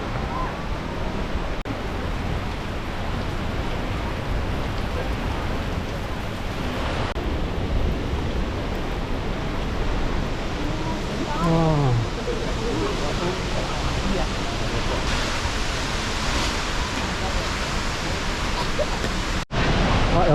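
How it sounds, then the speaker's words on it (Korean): Roaring waterfall close by on a national park trail, a steady broadband wash of falling water mixed with wind buffeting the microphone, with people speaking over it throughout. "폭포에서 물 떨어지는 것 때문에"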